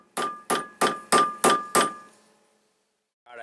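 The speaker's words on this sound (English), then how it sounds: "Then I'm going to take a hammer and I'm going to hit it on the rest of the way." Six sharp, evenly spaced hammer taps driving a deer antler casing onto a wooden dowel rod, each strike ringing with a bright metallic clang that decays quickly, close and clear, then a brief silence.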